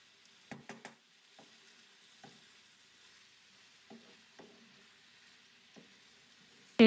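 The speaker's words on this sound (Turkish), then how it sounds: "Evet, karıştırarak kavuralım." Green beans with red pepper flakes are stirred in a pan, a few sharp utensil scrapes and taps scattered over a faint, quiet sizzle, closer clatter at the start and a sudden loud knock at the very end.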